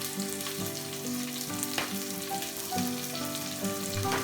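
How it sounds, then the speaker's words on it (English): Cauliflower florets with salt sautéing in a pan make a continuous close sizzle, broken now and then by brief stirring clicks over a low steady hum. "Adding salt at this stage makes the sauteing process much fast and the florets will be tastier too"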